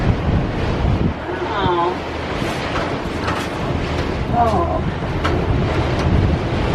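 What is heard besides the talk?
strong wind gusts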